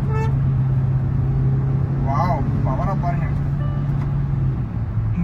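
A Hyundai Exter car accelerates with a steady low engine drone heard from inside the cabin, while a person talks over it.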